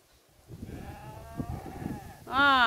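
Close, loud bleating from a farm animal cuts in at the end, after a stretch of a quieter drawn-out call and rustling movement nearby.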